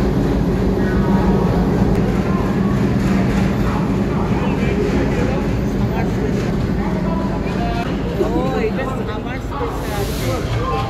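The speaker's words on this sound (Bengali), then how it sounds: "এই হচ্ছে আমাদের ট্রেন, ট্রেনে উঠে গেছি" Inside a crowded summer holiday special train, a steady low rumble and rattle of the moving carriage runs throughout, with people talking over it.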